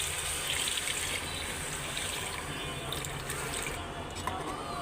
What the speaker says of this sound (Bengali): এখন দিয়ে দিব পরিমাণ মতো পানি।